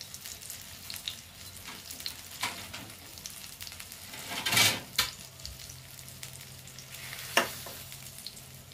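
Eggplant pieces fry in oil in a pan with a steady soft sizzle, broken by a few sharp clatters and scrapes as the slices are moved and lifted out.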